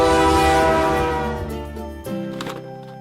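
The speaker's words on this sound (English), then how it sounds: "All aboard, choo choo, choo choo, all aboard the J train." A toy train sounds a loud, sustained electronic horn, which fades slightly, then blasts again briefly after a short break. The horn plays alone with no speech over it.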